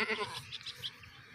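A goat for sale bleats in short, wavering cries, close and fairly quiet, a few quick calls in a row without any voices over them.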